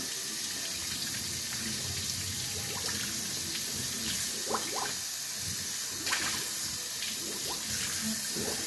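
Water runs steadily from a faucet into a sink while hair is washed, a continuous moderate rush with occasional splashes and slight changes in the flow, no talking.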